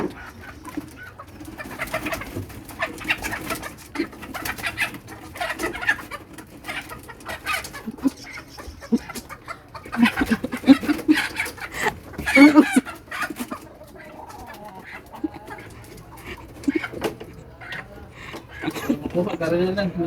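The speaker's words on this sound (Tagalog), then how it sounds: "Natakot ang mga manok kaya ayaw lalapit sa kanya." Chickens cluck and murmur in their coop in a busy, continuous stream of close clucks and coos, with people talking over the birds throughout.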